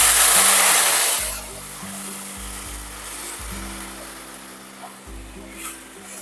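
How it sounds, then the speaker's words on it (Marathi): Kadhi mixture hits a hot mustard seed and curry leaf tempering with a loud sizzling rush for about a second, then settles into a quieter steady hiss over a low background hum. "आता यामध्ये आपण कढीचं मिश्रण टाकूया"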